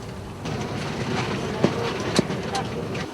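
Train running from London Euston toward Birmingham, heard from on board as a steady rolling rumble with a few sharp clicks and clacks from the rails.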